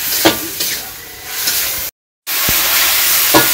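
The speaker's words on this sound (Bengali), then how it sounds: "মরিচের গুঁটি কাঁচামরিচ দিয়ে দিলাম ভালো করে কষিয়ে নেই" Green chillies fry in a pan, giving a steady close sizzle with faint stirring scrapes, broken by a brief silent gap before the frying resumes.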